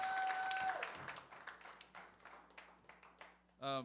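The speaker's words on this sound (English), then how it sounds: "Let's give him another round of applause" Applause at a singer-songwriter competition final fades out after a loud start into sparse scattered claps, then a voice speaks briefly at the end.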